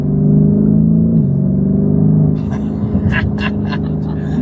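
A Lamborghini Urus SE engine rumbles with a deep, throaty low tone that rises slightly as it revs, then settles to a lighter idle with some scattered clicks and movement noise close by.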